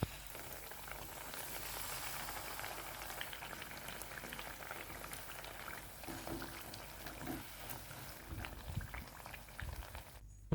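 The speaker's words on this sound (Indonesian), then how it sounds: "Panaskan minyak untuk menggoreng, lalu goreng tempe sampai kecoklatan." Tempeh fries in hot oil with a steady, close sizzle and crackle that holds evenly throughout, with a few soft clinks near the end.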